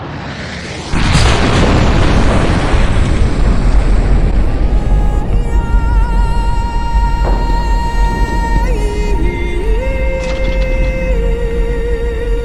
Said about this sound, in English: The United States dropped an atomic bomb on the Japanese city of Hiroshima.